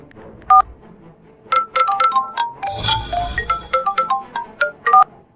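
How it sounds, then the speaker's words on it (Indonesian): Telephone keypad dialing: a quick series of bright touch-tone beeps in an uneven rhythm, a brief ringing burst in the middle, then more tones, clear and close with no talking. "Aku telepon aja."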